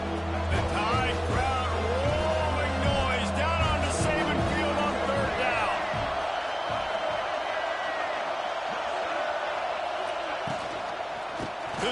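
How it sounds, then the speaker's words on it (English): Stadium crowd noise at a college football game in NCAA 25, a steady broad roar filling the background while a commentator talks over it, with some thumping impacts early on. "The Tide crowd rolling noise down onto Saban Field on third down."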